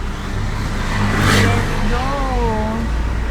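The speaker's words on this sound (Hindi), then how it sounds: "तो मैं गाड़ी स्टार्ट कर रही हूँ" A car is started and its engine swells into a brief rev before settling into a steady low hum, close by inside the cabin, while someone talks over it.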